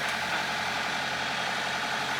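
A sailboat motoring under engine power on a windless day between Santa Pola and Gibraltar: a steady, continuous engine drone with broadband hiss, unchanging and fairly loud, with no voices.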